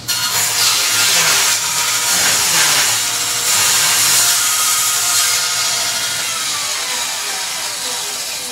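A table saw fitted with a smaller blade rips a strip of wooden glazing bead for a window, a loud close whining hiss that swells and eases as the wood feeds through, then runs steadily on.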